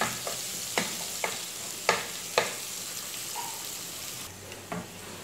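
Onions for chicken biryani sauté in a pan with a quiet, steady sizzle, interrupted by several sharp scrapes and taps of a spatula stirring them at irregular intervals.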